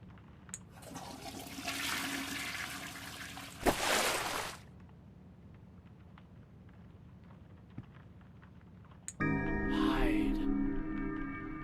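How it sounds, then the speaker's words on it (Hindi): A toilet flushes in the baby horror video game Baby in Yellow: a loud rushing gush of water lasting a few seconds, followed later by a second burst of water with musical tones. "मैंने इसको फ्लश में डाला और इसे ही फ्लश कर दिया।"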